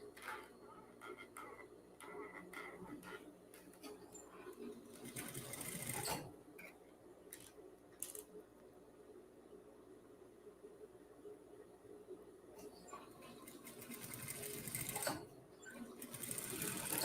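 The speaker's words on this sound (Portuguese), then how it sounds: "Deixa eu passar a costurinha aqui" A sewing machine stitching a set-in shoulder seam, whirring in several bursts of rapid ticking stitches separated by pauses with small clicks and handling sounds, with someone speaking quietly at times.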